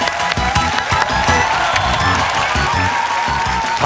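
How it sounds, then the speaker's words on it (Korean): A studio audience at a Korean TV comedy show breaks into applause and some cheering, a dense, loud burst of clapping close to the microphone, with music or noise mixed beneath. "여러분 큰 박수 주십시오."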